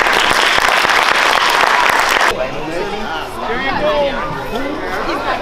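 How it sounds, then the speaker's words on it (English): A crowd claps loudly and continuously at a community fire-safety and winter coat event, then the applause cuts off abruptly and gives way to lively chatter and voices. "let's give a round of applause for everyone that supports them"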